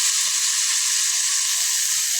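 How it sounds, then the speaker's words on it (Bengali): Potatoes frying in hot oil for a curry, a steady dense sizzle that holds evenly at close range throughout, with no voices over it. "এখন এই যে আলুগুলো তেলে বাজছে না"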